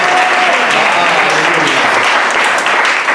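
Sustained applause from the audience at a Bible institute student presentation ceremony, dense and loud clapping filling the room throughout with a faint crowd murmur beneath.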